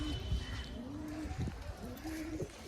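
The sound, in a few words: pigeons cooing in a loft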